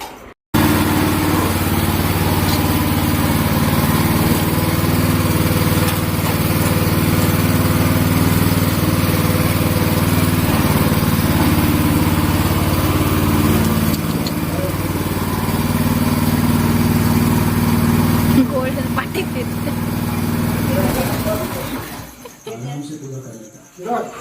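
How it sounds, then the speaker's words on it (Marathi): A repaired farm tractor engine runs at a village, a steady close, loud mechanical drone that holds nearly unchanged for about twenty seconds before cutting out near the end, with voices talking over it. "आता बरंचसं काम झालं आहे ट्रॅक्टरचं आणि थोड्या वेळानं तो सुरू देखील होईल"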